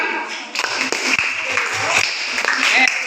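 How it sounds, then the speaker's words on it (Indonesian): A classroom of students claps together for a few seconds, the applause mixed with voices and chatter in the room. "Boleh tepuk tangan?"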